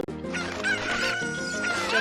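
Chickens in the Ocarina of Time Randomizer video game cluck loudly and continuously in rapid, squawking bursts, with game music faintly underneath.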